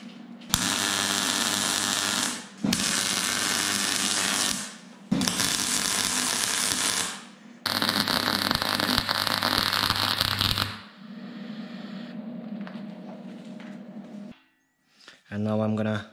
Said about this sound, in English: now I'm gonna weld those pieces in here